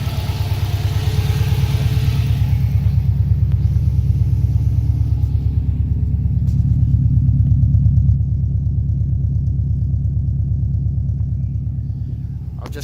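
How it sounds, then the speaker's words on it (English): A 2004 Subaru Impreza STi engine runs steadily close by, a loud low rumbling idle with an even pulsing beat that swells slightly and eases off, no voices over it. "I'm running the car now, as you can obviously hear"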